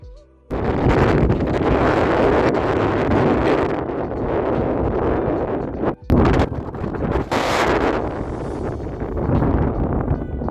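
Strong southerly wind buffets the microphone on an anchored sailboat off Motutapu Island in the Hauraki Gulf, a loud, continuous roaring rumble with gusty surges and one brief dropout.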